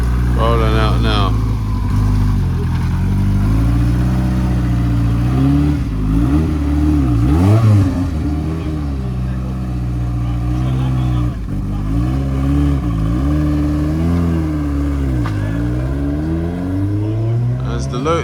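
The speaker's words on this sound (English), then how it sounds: "So we got the Esprit Turbo rolling out now." A Lotus Esprit Turbo pulls out of a classic car breakfast meet, its engine revving up and down in repeated swells, close and loud, with other vehicles and people around.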